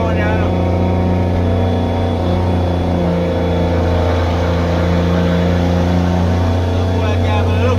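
A Foden 12-wheeler dump truck engine runs loud and close, a deep steady diesel rumble with a constant low tone and slight rises in pitch, with talk partly over it.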